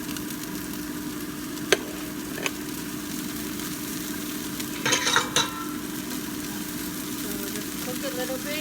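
Ginger, garlic and the white part of an onion fry in oil in a wok with a low steady sizzle and occasional stirring clatter, while a voice speaks briefly over the cooking.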